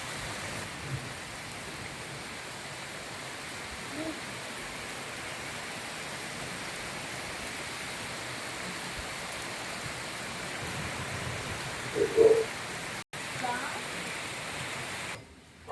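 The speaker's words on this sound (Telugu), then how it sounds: "చూడండి వర్షం ఎలా పడుతుందో" Evening rain falling outdoors, a steady faint hiss of rainfall holding evenly throughout with a brief dip near the end, no clear talking over it.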